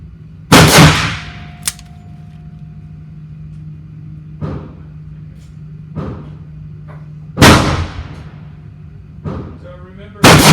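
Smith & Wesson M27-9 .357 Magnum revolver fired at an outdoor range, three sharp loud reports spaced a few seconds apart with quieter clicks and handling sounds between them, heard alone without talk.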